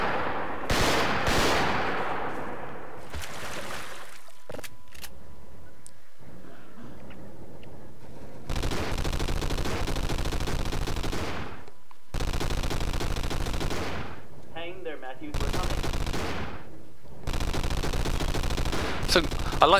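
Mounted turret firing in a Half-Life 2 Episode 2 mod, loud sustained bursts of automatic gunfire in several long stretches separated by short pauses, with heavier blasts early on.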